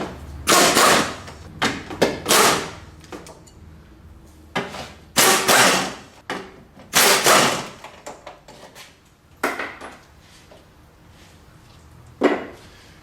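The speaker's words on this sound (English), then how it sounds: "I'm now going to remove the 4 fasteners that hold the top of the radiator in." Top radiator fasteners are removed from a 2001 Mitsubishi Eclipse, making a run of sharp, close clanks and rattling tool knocks in irregular bursts with short quiet gaps between them.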